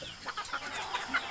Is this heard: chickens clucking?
yes